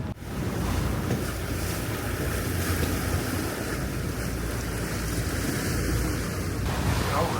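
A sailboat pushes through a rough, heavy sea, with a steady broadband roar of wind and rushing water surging against the hull, loud and continuous throughout with no speech.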